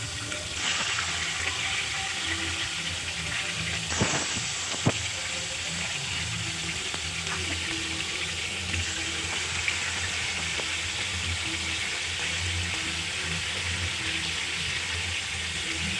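Ginger, garlic and salt sizzle steadily in hot oil in a pan, a continuous frying hiss with a couple of brief clinks, heard up close with no talking.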